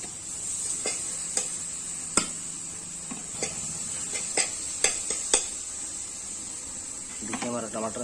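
Turmeric masala sizzles in a pan for idhar curry, a steady frying hiss broken by sharp scraping and clinking taps of a spoon stirring against the metal, with a voice speaking briefly near the end.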